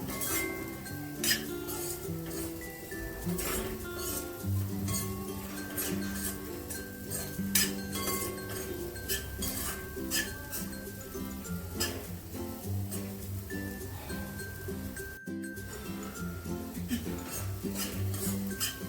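Leftover chapati mixture for laddoos is stir-fried in a pan, with continuous busy scraping, clinking and metal-on-pan knocks over a faint sizzle and no talk.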